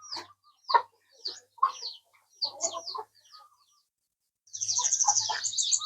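Small chicks scratch about and give short, high chirps in scattered bursts. The bursts pause briefly, then return as a rapid run of chirps and clucks nearby.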